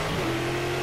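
A Brazilian V8 stock car engine in Game Stock Car Extreme at Interlagos revs hard under acceleration, a loud, close, steady drone with a sustained tone held for the whole brief moment.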